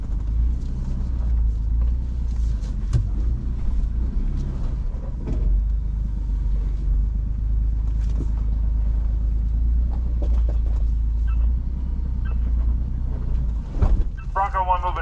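A Ford Bronco crawls off-road near Las Vegas, Nevada, using left-foot braking, giving a loud, steady engine rumble and drivetrain drone throughout, with faint clunks and a brief squeak near the end.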